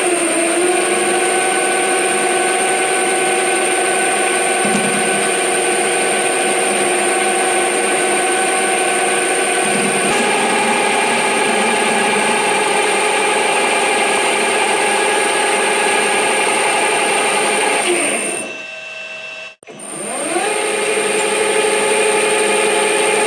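A metal lathe turns down excess stock and faces a part for a small Stirling-type engine build, giving a steady, loud machining whine with tonal hum that cuts out briefly near the end and then spins back up.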